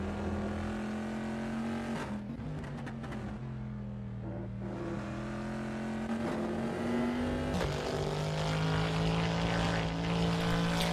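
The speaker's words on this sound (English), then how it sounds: "As you can hear, it has a very meaty sound to that engine, a very nice sounding V8" A Corvette C7R racing V8 in a GT2/GT4 multiclass video game race at Spa-Francorchamps, heard as a steady, loud, meaty engine drone with shifting pitch and gear changes throughout, no talking.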